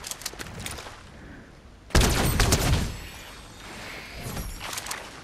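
Gunfire in the video game Fortnite: scattered bursts of shots early, then a loud, dense fusillade erupts near the middle and tapers into further rapid volleys, no talk over it.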